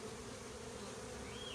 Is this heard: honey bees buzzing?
yes